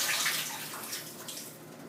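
A soft-spray shower head for low water pressure sprays steadily, the broad hiss fading gradually as the water is turned off, with no voices.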